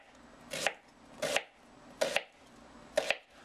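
Knife slicing an onion lengthwise on a cutting board for fajitas, four crisp separate chops about a second apart, close and clear with no talk.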